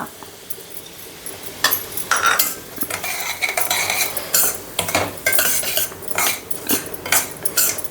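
Semolina frying in oil is stirred in a metal pan while cooking moong dal payasam: a spoon scrapes and clinks against the pan in repeated close strokes over a faint sizzle, and no one speaks.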